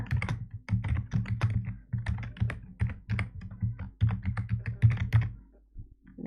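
Rapid typing on a computer keyboard, a steady run of close, crisp key clicks and taps in uneven bursts with brief pauses, heard alone.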